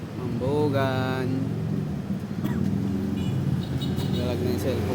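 Heavy, congested road traffic in Mambugan heard from inside a vehicle: a constant low rumble of engines and road noise, with people talking over it and brief tonal sounds rising above the din.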